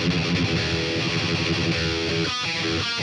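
Electric guitar through a Centa OD overdrive pedal into a Boss Katana amp, playing a thick, sustained distorted riff at strong level, with a couple of short choppy muted stabs toward the end.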